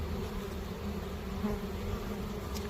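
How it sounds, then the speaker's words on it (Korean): A swarm of young honeybees makes a continuous, dense buzzing hum during an orientation flight on a hot day, steady and fairly close with no talking over it. "어린 벌들이 이렇게 많이 나와서 있다는 것은 난놀이 하는 겁니다"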